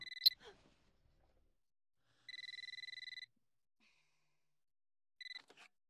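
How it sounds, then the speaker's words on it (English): Telephone ringing in the horror video game Eternal Darkness: Sanity's Requiem, sounding as clean electronic double-tone bursts: one short burst, a longer steady ring, then another brief burst, heard alone with no talk. "Answer the phone, Alex."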